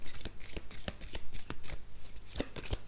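Tarot cards are shuffled close up in a rapid, steady riffle of crisp slaps and flutters that continues for the whole stretch.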